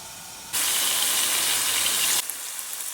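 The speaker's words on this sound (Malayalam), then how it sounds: "ചിക്കൻ മൂടി വെച്ച് നമുക്ക് ഫ്രൈ ചെയ്തെടുക്കാം." Chicken frying in a covered pan gives off a loud, steady steam-like hiss that starts abruptly, holds for under two seconds, then cuts off, leaving quieter sizzling.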